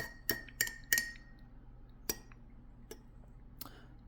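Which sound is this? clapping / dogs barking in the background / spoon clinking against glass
spoon clinking against glass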